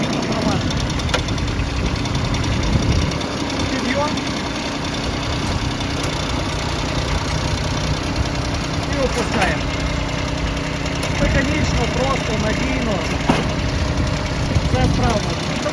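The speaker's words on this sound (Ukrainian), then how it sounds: "От стоючи на місці, маленький тракторець" A small Kubota GB155 tractor engine idling nearby with a steady low rumble and knocking, occasional clanks, and someone talking over it at times.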